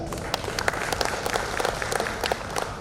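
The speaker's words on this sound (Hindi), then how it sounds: "दोनों के लिए भी ताली" Steady audience applause at a travel mart held in a palace durbar hall in Udaipur, brisk, even clapping from a sizable crowd throughout.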